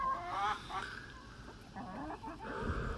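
A backyard flock of 19 chickens clucks and murmurs close by, with soft overlapping calls and scratchy activity in the background, steady and moderately loud throughout.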